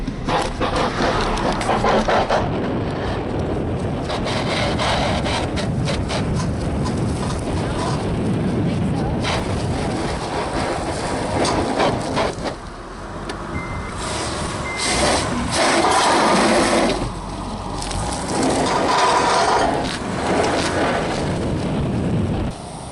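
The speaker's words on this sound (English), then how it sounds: "I'm scraping mud flap." A lowered Nissan C33 Laurel's mud flap scrapes along the road while driving, a loud, continuous rough grinding and rumble of road noise, with people talking inside the car.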